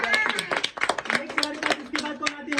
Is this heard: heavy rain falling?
no